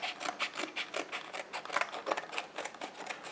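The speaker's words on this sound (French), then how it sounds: "Ah, ici, il faut le ciseau." Scissors cutting open SSD packaging, a quick series of sharp rasping snips and rubbing strokes at a steady rhythm, close and moderately quiet with no talking.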